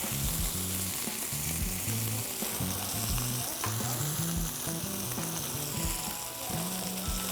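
A thick bistecca alla fiorentina steak just turned over in a hot pan, sizzling loud and steady up close with crackling spatters throughout, no voices.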